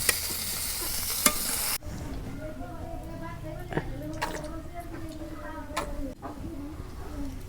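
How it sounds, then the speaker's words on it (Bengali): A large mirka fish sizzles and spits as it fries in an oil-filled pan for a traditional Bangladeshi bhuna, a loud hiss at first settling into steady crackling under a voice. "এই দেখো আমার এই খোলা মাছ ভাজা হচ্ছে"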